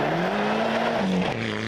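A rally car runs through a night special stage on Rally Canterbury in New Zealand, its steady engine note holding loud and close for most of the pass, then dropping in pitch as it shifts and moves on.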